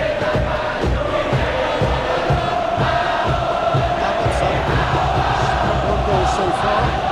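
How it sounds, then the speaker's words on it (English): A football stadium crowd at a Bali United versus Arema FC league match roars continuously, a loud, dense wash of cheering and chanting that holds steady throughout. "the crowd clearly like what they just saw"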